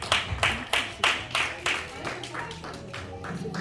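A church congregation claps in a steady rhythm, sharp loud claps spaced about every half second, with voices and sound from the room underneath.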